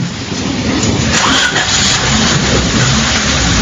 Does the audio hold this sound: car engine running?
yes